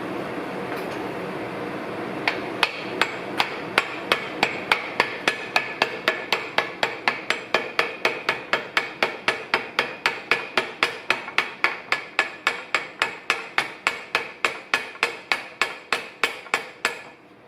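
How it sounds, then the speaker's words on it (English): Steady, rapid tapping with the wooden part of a hammer during a Jeep TJ Rubicon 241J transfer case rebuild, dozens of evenly spaced knocks at close range, continuing without pause over a faint background hum. "I'm just using the wooden portion of the hammer."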